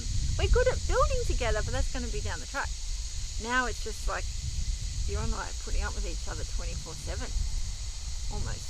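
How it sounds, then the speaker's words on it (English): A steady high drone of cicadas in Australia runs under close conversation between two people; kookaburra calls are buried beneath the talk. "in the background there's the kookaburras and cicadas"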